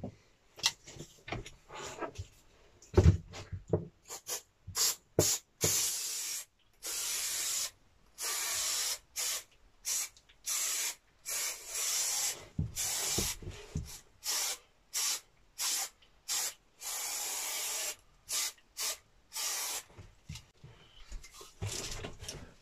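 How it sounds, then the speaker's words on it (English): Spray adhesive bursts from a can onto a camper van carpet in short, repeated hissing blasts with brief gaps between them, close and fairly loud. "make sure you spray the right side"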